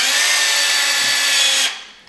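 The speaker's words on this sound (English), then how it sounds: "We're using the drill to mix the chemistry." An electric drill spins a paint mixer through home film-processing chemistry, a steady loud whir that runs continuously, then cuts off and winds down near the end.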